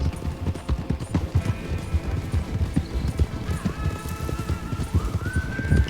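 Horse hooves clip-clopping steadily in the Red Dead video game, a close, continuous rhythmic beat with a couple of thin whinnying tones rising above it toward the end.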